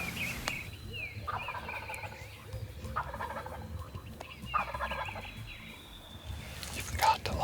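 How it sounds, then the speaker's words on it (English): A wild turkey gobbles from its roost in repeated bursts, several distinct rattling gobbles spaced a couple of seconds apart, carrying from a moderate distance over a quiet morning background. "He's pretty fired up, gobbling on the limb."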